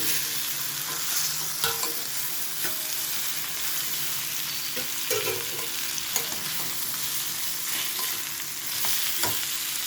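Boiled tapioca (cassava) being stirred and sautéed in a hot pan, producing a steady, fairly loud sizzle with repeated scraping strokes of the spoon across the pan throughout.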